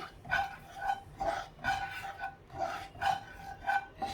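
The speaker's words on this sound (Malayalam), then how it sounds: "ഈ മുളക് പൊടിയും മഞ്ഞൾപ്പൊടിയും എണ്ണയും കൂടി നന്നായിട്ടൊന്ന് മിക്സ് ചെയ്തതിന് ശേഷം നമുക്ക് ഫയർ ഓൺ ചെയ്യാം" Chili powder, turmeric and oil being stirred into raw sardines, a soft rhythmic scraping and rubbing repeating roughly every half second, close and fairly quiet.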